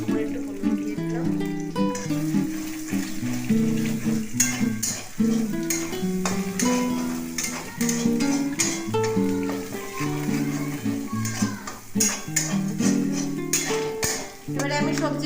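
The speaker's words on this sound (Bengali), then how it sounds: "এবারে আমি সবজিগুলো ঢেলে দিয়েছি, একটু নাড়িয়ে নিলাম হালকা করে।" Vegetables poured into a hot pan for chowmein and stirred, giving a steady sizzle with scraping stirs, while music plays prominently over the frying throughout.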